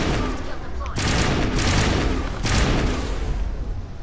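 Rapid explosive assault rifle fire in the sci-fi game Mass Effect, two dense loud bursts of crackling shots with booming impacts, nearly continuous over background game noise.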